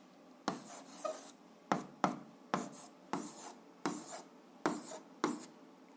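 Pen or pencil writing by hand on paper while an algebra answer is written out, a series of about ten short scratchy strokes in an irregular rhythm, close and fairly quiet with no voices.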